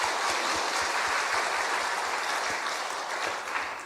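A church congregation claps together in dense, steady applause that carries on for a few seconds, then tapers slightly.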